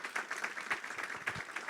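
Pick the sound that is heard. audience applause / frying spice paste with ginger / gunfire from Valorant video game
audience applause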